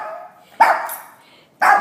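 A happy dog greeting company indoors, giving two loud, close barks separated by a short pause, each bark with a whiny, excited edge and a softer whimpering tail.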